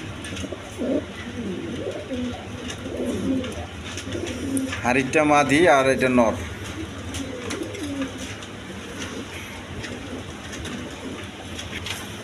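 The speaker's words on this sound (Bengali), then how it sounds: "ডিম বাচ্চা করানো কবুতর" Breeding pigeons at a market coo in low, repeated bursts throughout, while someone speaks briefly near the middle over the background bustle.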